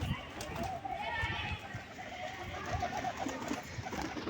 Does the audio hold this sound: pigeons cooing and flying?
yes